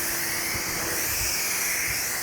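A Ryobi automotive pressure washer sprays water in a steady, broad hiss that holds level and close for a couple of seconds, with no voices.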